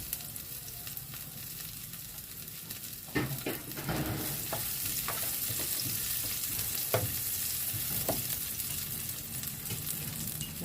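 Garlic frying in oil in a pan, a steady sizzle that grows louder midway, with occasional scraping strokes of a spatula, and no talk.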